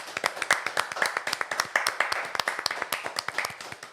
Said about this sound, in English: That was a nice round of applause.